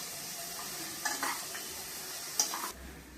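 Onion-coconut paste with cumin, mustard seeds, sesame and garlic stirred in hot oil: a soft continuous sizzle broken by a few scraping strokes of a spoon against the pan, close by, before the sound drops away near the end.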